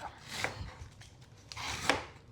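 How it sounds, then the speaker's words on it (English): A food chopper whirs and chops a whole jalapeno in two short bursts with a pause between, close and fairly loud, no voices. "So like 1 jalapeno, yeah, totally chops it fine"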